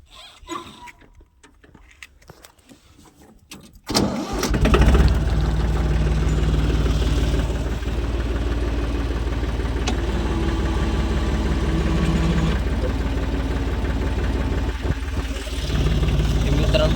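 A tractor engine fitted with a rotavator starts after a few quiet seconds, then runs at a steady 1000 RPM with a loud, even mid-pitched drone and a brief dip in pitch near the end.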